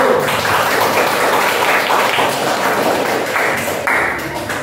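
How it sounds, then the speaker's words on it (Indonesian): A classroom full of people claps together for a group presentation, a dense, steady wash of applause that continues evenly before easing slightly at the end. "tepuk tangan untuk kelompok 1"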